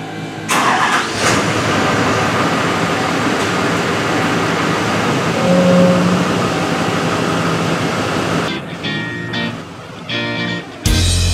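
A dump truck engine cranks and rumbles to life, idling loudly and steadily, then cuts out with a few clunks near the end.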